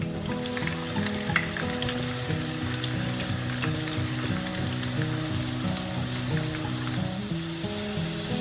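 Ginger-garlic paste sizzles and fries steadily in a pan, turning golden brown for an Anglo-Indian sweet mango pickle, a dense continuous crackle with a stepping melodic tune playing underneath throughout.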